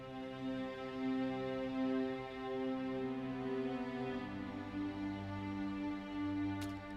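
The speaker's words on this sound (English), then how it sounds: "The cello basically playing whatever you play on the bass" Cello and viola sustain a slow, soft harmony of held chords in an emotional pop ballad arrangement, the notes shifting every second or so at a quiet, even level.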